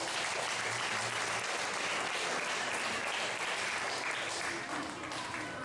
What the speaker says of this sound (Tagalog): Wala bang palakpak para sa ating Panginoon?